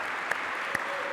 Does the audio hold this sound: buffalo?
no